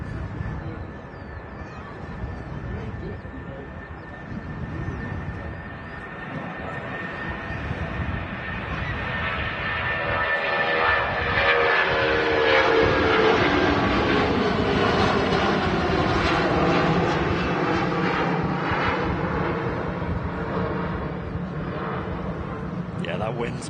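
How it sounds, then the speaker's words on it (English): A Jet2 Boeing 757 rolling down the runway at Manchester Airport on a gusty day, its engine roar and whine swelling and sustained in the distance while someone talks over it. "Jet2 757 rolling down to 3 right"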